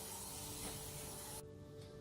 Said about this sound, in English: grab your spray paint